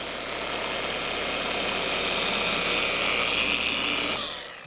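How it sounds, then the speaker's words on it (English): An orbital buffer runs steadily while polishing out a run in a car's clear coat, a constant close whirring hum that holds level for several seconds before easing down at the end. "this buffer seems quieter than the other one, because I have another orbital buffer"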